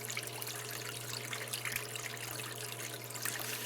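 Water runs steadily over a gold sluice mat in a continuous close trickling wash with faint splashes, and nobody speaks.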